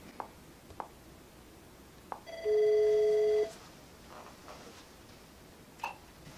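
An Avaya B199 IP conference phone rings out once in a single steady electronic tone lasting about a second while calling another extension, set against quiet room background and a few faint clicks.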